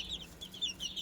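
An Italian pearl-grey cuckoo chicken clucking softly, a quick string of high, nasal clucks close by against faint background noise, with no voices.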